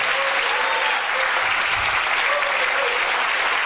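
A church congregation breaks into sustained applause, thick and even hand-clapping from many people that continues without a break, with a brief low rumble partway through.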